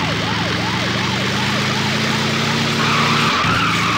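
A police car siren in the arcade racing game Thrill Drive 2 wails in a loud, repeating up-and-down pattern over a roaring engine, ending in a sharp tire skid.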